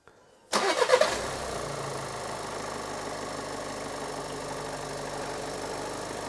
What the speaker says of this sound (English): we're going to start the car